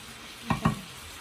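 Chicken fajitas in extra virgin olive oil get two quick stirring scrapes in a pan, brief sizzling bursts over a faint steady hiss.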